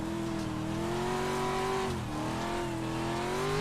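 A Pro4 race car's engine drones steadily at high revs in a racing video game, its pitch climbing, briefly dipping near the middle as the driver shifts, then rising again, loud and close with no talk.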